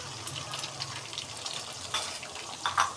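An egg drops into a frying pan of masala noodles, bringing a soft sizzle and spatter with a couple of brief louder bursts near the end, set against a low steady hum.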